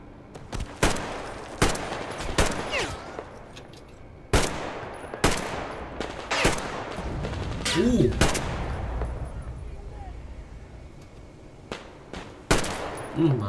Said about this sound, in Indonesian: Mana nembakin gue ini?